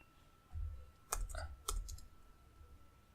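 Keys clicking on a computer keyboard in a few quick, faint taps and short bursts, set against a low background hum.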